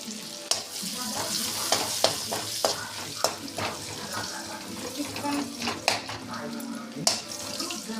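Ginger paste sizzles in hot oil with bay leaves for a vegetarian tadka, a steady frying hiss broken by the scrape and clack of a spoon stirring in the pan, close up.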